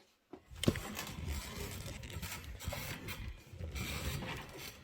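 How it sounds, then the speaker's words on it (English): A 1/4 inch presser foot is fitted onto a sewing machine and its screw adjusted, producing close, small mechanical clicks, ratcheting and rubbing scrapes after a brief silence. "I'm going to put my 1/4 inch foot back on"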